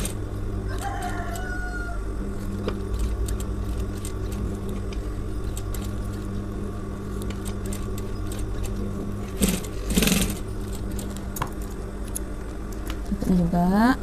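A sewing machine stitching a shirt collar runs as a steady close whirring drone for the whole stretch, broken near the end by a few sharp clicks and shifts in sound.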